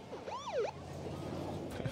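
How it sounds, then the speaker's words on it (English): A police siren on a big Hummer truck in the film The Suicide Squad gives one quick rising and falling wail, then fades into faint background noise. "A little police siren on that big, like, Hummer truck."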